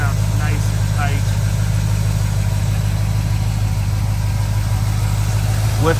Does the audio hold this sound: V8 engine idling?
yes